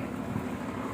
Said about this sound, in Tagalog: Malakas ang hangin kabayan dito sa kudat